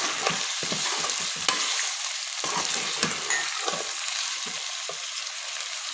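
Chicken with finely chopped onion stirred while frying for a dhaba-style creamy chicken: a steady, close sizzle broken by repeated scraping stirs, with no talking.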